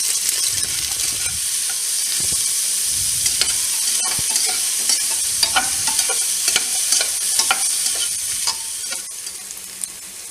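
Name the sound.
shallots sautéing in ghee in a pressure cooker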